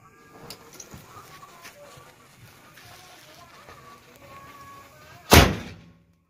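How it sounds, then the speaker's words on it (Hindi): A small sky shot firecracker bursts with one sharp, loud bang near the end, after several seconds of faint outdoor background with quiet scattered sounds; the blast decays quickly into silence. "छोटा था लेकिन बहुत बड़ा धमाका किया, एकदम भयानक आवाज किया एकदम।"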